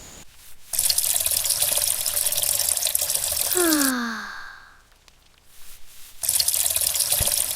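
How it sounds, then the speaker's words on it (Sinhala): Tap water running steadily while things are washed in a sink in a home, loud and close in two bursts, with a rising drawn-out sigh-like tone and a quiet gap between them. "මේවා හොඳට හොදනවා"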